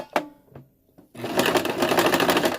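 A sewing machine stitches faux fur after a few quiet clicks and taps, then runs in a fast, steady mechanical whir for over a second, close and fairly loud.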